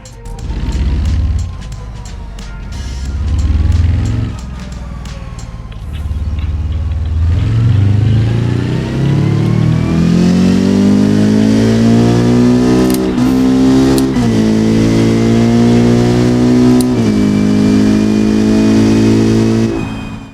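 A race-built engine in the Hirochi CCF video game revs hard, its pitch climbing steadily through the gears with a few shift dips, loud and close with no talk over it.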